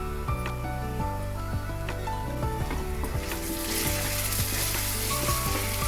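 Onions frying with ginger garlic paste and garam masala for a small-fish curry, a loud, steady close sizzle with faint stirring and clinks throughout.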